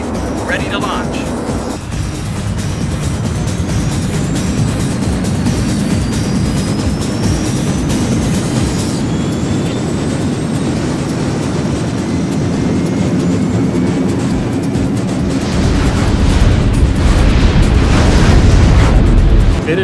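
The Predator Mark IV assault vehicle in the PlayStation game Star Fighter launches: a loud, sustained engine roar and rumble that swells toward the end, under a voice running through pre-launch checks.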